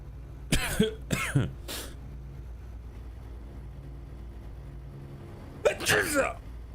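Two quick sneezes burst out near the mic from a driver inside a moving car near Tyler, Texas, with a third short breath after, then a steady low cabin and road hum until another loud sneeze-like outburst near the end.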